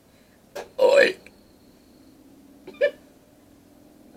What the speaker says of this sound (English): that was a demon burp